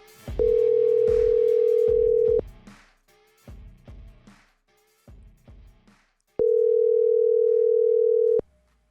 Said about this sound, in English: So let's make our phone call this week.